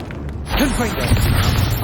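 The Confringo fire spell bursts in Hogwarts Legacy as a loud, booming explosion with a rumbling tail, while a character's voice shouts over it.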